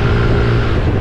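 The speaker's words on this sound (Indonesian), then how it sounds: "Ini buat geber-geber enak ya." A Honda Vario Techno 110 scooter fitted with a hybrid rubber air filter, its engine revving in a steady, loud, close drone with no talk over it.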